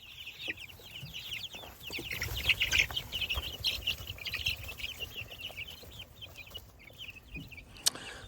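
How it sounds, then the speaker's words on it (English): Young chicks kept in an old rabbit pen cluck and cheep busily while being fed, a dense chorus of high chirps and soft clucks that swells in the middle, with a sharp peep near the end. "I just got to feed these chicks. See all my chicks?"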